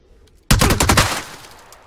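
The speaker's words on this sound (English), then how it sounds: "Oh, I think this is a shotgun." A shotgun fires in the video game PUBG, a sudden loud blast with a quick cluster of sharp reports that then rings out and fades.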